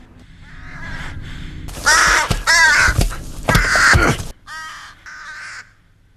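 Crows caw loudly in a film scene set around a dark cave, harsh repeated rasping calls in clusters, close and prominent over a low background rumble.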